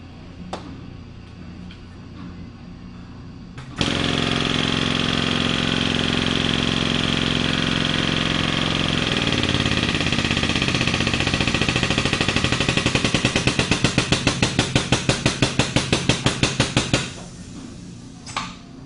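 A Parker Minikrimp machine crimps a fitting onto a hydraulic hose, starting abruptly with a loud, steady mechanical drone that turns into a rapid string of clattering pulses before cutting off, with no talk.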